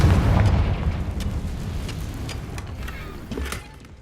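Confringo blasting-spell explosions in Hogwarts Legacy: a deep booming burst that rumbles away, followed by a smaller blast near the end, with crackling debris between them.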